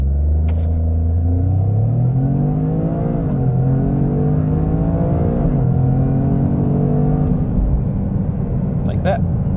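A Toyota GR Corolla with an automatic gearbox launches under launch control: a loud, close engine drone rises in pitch through several gear changes, with someone speaking over it.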